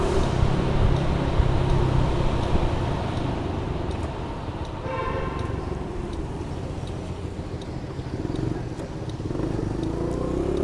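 A motorcycle engine pulls hard in first gear while riding through Brooklyn streets in New York City, a steady loud rumble with heavy wind noise across the whole stretch.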